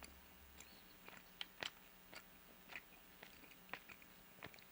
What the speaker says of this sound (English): some chewing.